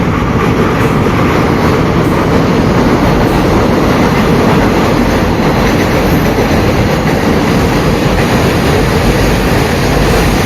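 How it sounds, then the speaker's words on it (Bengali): A goods train rolls past on the adjacent track, a loud, continuous broadband rumble with steady clatter that holds for the whole stretch, close by and unbroken, with no talk. "এটাতে মাল গাড়ি"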